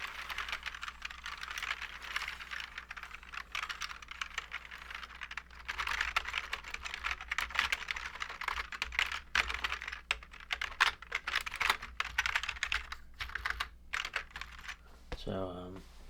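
Stiff, sticky keys on a cheap computer keyboard being typed on continuously, producing a dense, loud clatter of clicks that keeps going throughout the clip.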